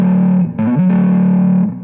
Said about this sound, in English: As soon as you kick on the distortion